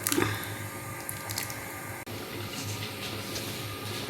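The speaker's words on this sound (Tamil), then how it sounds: "பச்சை தண்ணி ஊற்றாதீங்க, சுடு தண்ணி ஊற்றிக்குங்க" Hot water pours and splashes steadily into a pot of vegetable chicken curry, with a brief gurgling burst at the start and a short break midway before the flow resumes.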